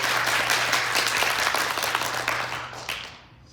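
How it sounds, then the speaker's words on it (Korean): A conference audience at a leadership event breaks into loud, dense applause that holds steady for a few seconds, then thins and fades out, with a low steady hum underneath. "그분들에게도 우리 큰 박수 부탁드립니다"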